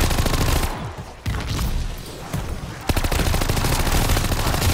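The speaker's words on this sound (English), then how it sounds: "Looks like a minigun with him." A minigun fires in Call of Duty Vanguard zombies, rapid continuous bursts of loud close gunfire in dense rattling streams with brief breaks between volleys.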